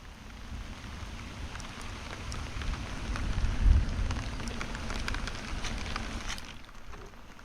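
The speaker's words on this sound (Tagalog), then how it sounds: "Santing po ang ulan." Steady rain falls outdoors, a dense continuous patter of drops on surfaces with a low rumbling swell in the middle, moderately loud and unbroken, with no voices.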